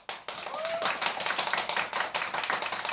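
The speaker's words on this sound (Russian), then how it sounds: "Здесь должны быть аплодисменты." Applause sound effect played on a Russian radio live broadcast, dense clapping sustained throughout with rhythmic pulses, a brief sweeping tone near the start, and a voice faintly underneath.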